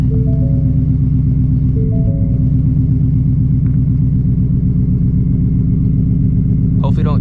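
An 800 hp Shelby GT350 Mustang rumbles through its new exhaust setup while driving, a loud, deep and steady engine drone that holds close and unbroken throughout.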